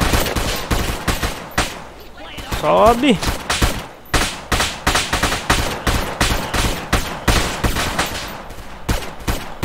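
Rapid gunfire bursts repeat almost nonstop in a GTA video game, loud and close, with a short rising whine early on and a brief spoken word.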